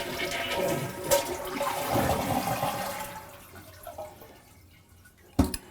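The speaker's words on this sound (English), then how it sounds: "Our water is turned off, and drain the toilet." A toilet flushes loudly to drain its tank, with water rushing out and then swirling down into quieter trickles and drips before a final short clunk.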